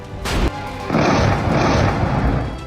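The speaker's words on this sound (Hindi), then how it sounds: "बम फटे, बारूद बरसा" Bomb blasts in war footage from Israeli strikes on Iran: a heavy boom, then a sustained rumbling roar of explosions that fills the rest of the moment, loud and close.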